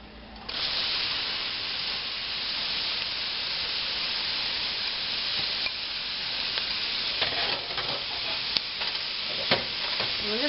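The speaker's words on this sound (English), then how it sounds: "Alright, I'm going to turn the heat off, and we're going to put the vegetables in." Vegetables go into a hot gluten-free roux for chicken and sausage Creole gumbo, and a loud, continuous sizzle follows. Stirring scrapes and a few sharp clicks come through near the end.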